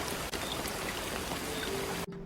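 Steady rain falls at night in a dense, continuous hiss of drops, close and even, with no voices, then cuts off abruptly at the end.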